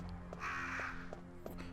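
Crows cawing in the Resident Evil: Director's Cut video game, a hoarse drawn-out caw over a low droning music bed with faint rhythmic ticks, fairly quiet.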